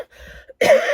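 Someone with a sore, recovering chest coughs once, loud and close, just after a brief quiet hum of background noise.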